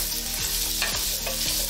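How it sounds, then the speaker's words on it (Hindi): Chopped potatoes fry with cumin seeds and asafoetida in hot oil, a dense continuous sizzle broken by several scraping stirs of a spoon in the pan. "जीरा भुनते ही इसमें डाल देते हैं कटे हुए आलू।"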